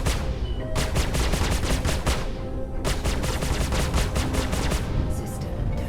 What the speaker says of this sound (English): What, you're shooting at me?